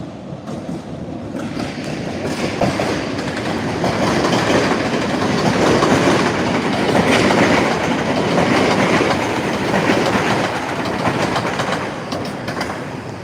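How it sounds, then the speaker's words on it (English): A passing train rumbles steadily at Forest Hills station, a loud continuous roar with rail clatter that swells in the middle and eases slightly toward the end. "Yeah, so there's a train approaching."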